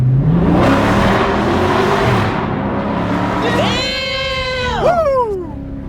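A car exhaust with the mid-muffler deleted revs up loudly, rising to a sharp harmonic whine and dropping back, with a rough idle rumble before it.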